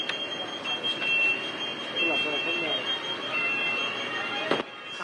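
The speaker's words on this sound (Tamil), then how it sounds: "ஆட்டோமேட்டிக்கா அலாரம் சவுண்ட் வரும்" A continuous high-pitched automatic electronic alarm tone rings on a Tamil Nadu government bus over rumbling vehicle noise, with people talking nearby.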